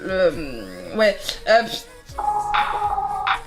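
Beeps and tones from a Samsung flip phone in an advertisement, a string of short electronic key and chime sounds with sung or spoken voices mixed in.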